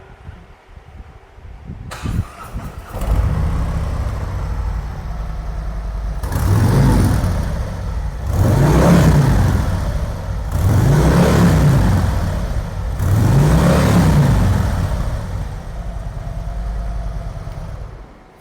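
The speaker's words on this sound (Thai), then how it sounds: "ขอฟังเสียงเครื่องยนต์หน่อยครับ" A 2022 Harley-Davidson Street Glide Special 114 motorcycle engine idles steadily, then is blipped several times in repeated throttle surges, each rising and falling in a deep rumble; loud and close.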